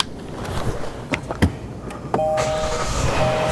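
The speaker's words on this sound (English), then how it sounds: "let's start it up and see if the sunroof closes on that" A Kia Telluride sunroof during replacement, with a few clicks and knocks inside the car, then the engine starting and a steady motor whine from the sunroof closing that continues to the end.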